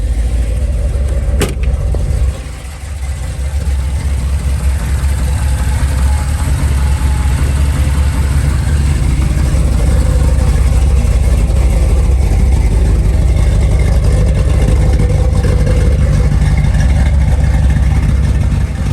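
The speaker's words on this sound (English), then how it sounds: "nice rumble out of the exhaust." Ford Bronco V8 with fuel injection running close and loud, a deep steady exhaust rumble at idle with mild rises in revs, continuous throughout.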